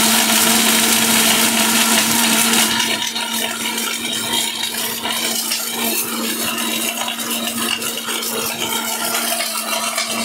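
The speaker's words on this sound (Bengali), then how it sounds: "এই যে ব্লেন্ডার থাকবে 10 মিনিটের সব বাটাবাড়ি।" A Steel Bush electric blender runs loud and steady for the full stretch, its motor whine holding a constant pitch, with a brief heavier churn at the start before settling into an even drone.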